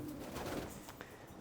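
Racing pigeons in a breeding loft give a brief, faint coo, low and muffled against quiet background noise, with no one speaking.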